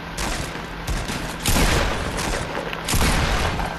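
Rapid bursts of gunfire from the video game Fortnite fill the clip, loud and dense with heavier volleys recurring, with no talk over them.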